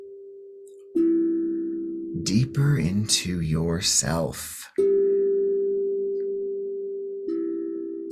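Steady sustained meditation tones hum beneath a calm voice, with a gentle tonal drone before and after a short spoken passage during an evening relaxation session.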